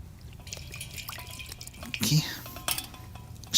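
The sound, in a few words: water poured and dripping during ablution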